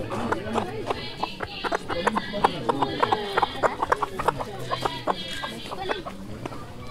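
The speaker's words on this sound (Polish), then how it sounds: "Tak jest, kogut pieje." Chickens cluck and squawk busily close by, with a rooster's crow rising among them over rhythmic clopping and background chatter, in Tanzania.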